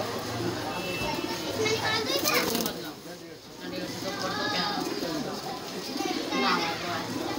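Green pigeons with white eyes and short beaks coo amid a lively mix of children's voices and chatter, the soft repeated calls partly buried under nearby talk.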